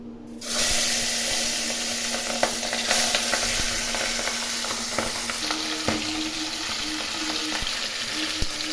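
Pabda fish dropped into hot oil, a sizzle bursting in after a brief quiet start and then crackling steadily with scattered pops and stirring clicks, close and with no talk.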